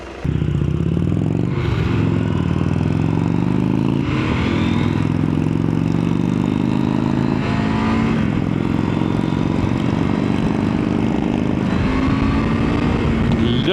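A Husqvarna Norden motorcycle accelerates on an evening ride, its engine note climbing repeatedly through the gears in loud, close surges, with a break at each shift and steady wind noise behind it.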